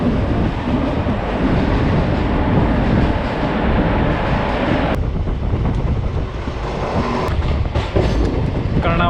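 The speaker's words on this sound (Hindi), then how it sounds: "कर्णावती एक्सप्रेस पास हो रही है" The Karnavati Express, a Mumbai–Ahmedabad chair-car train, rushes past close by with a loud, continuous roar, rumble and rattle of wheels and wagons, plus heavy wind buffeting on the microphone throughout.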